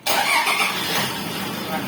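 A Toyota Vigo pickup fitted with a push-start button fires up, with a sharp onset as the engine catches and then settles into a steady, fairly loud idle that continues to the end.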